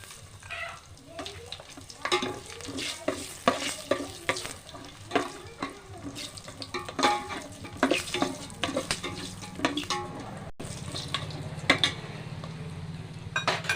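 Dried red chillies frying and sizzling in hot oil in a pan for dry khichuri, with steady close sizzle and repeated stirring scrapes and clinks of a utensil against the pot.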